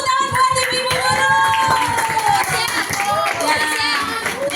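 Audience at a school Christmas celebration applauds, dense steady clapping from many hands throughout, with music and voices ringing over it.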